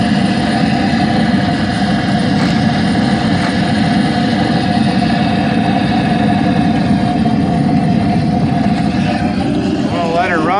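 A Predator 8750 portable generator engine runs loud and close, a constant low rumbling drone with an even, unbroken tone throughout.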